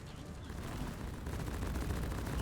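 Rapid continuous gunfire from the LOK-1 Smart Rifle in the video game Deep Rock Galactic, a dense, sustained burst of shots that grows slightly louder over a couple of seconds.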